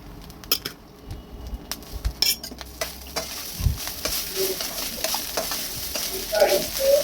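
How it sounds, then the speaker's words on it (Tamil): Hot cooked rice being stirred in a pan for a mixed rice dish: a spoon scrapes and taps against the pan in uneven strokes over a light sizzle, close and fairly loud, with no voices. "இப்போ இந்த மாதிரி சுடு சாதத்தை போட்டு கிண்டிக்க வேண்டியதான்."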